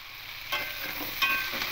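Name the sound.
turmeric and salt frying with ridge gourd and potato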